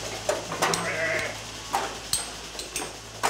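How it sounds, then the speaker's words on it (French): Rustic ewes bleat during machine milking on a farm in southwest France: several short, fairly close bleats scattered over a steady low hum from the milking machinery. "Grosse mamelle, c'est des brebis rustiques"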